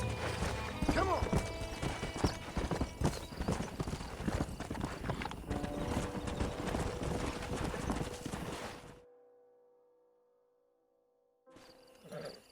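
Horses in Red Dead Redemption clip-clop in a busy, close run of hoof beats with a neigh near the start, then the sound cuts to near silence before faint noise returns at the end.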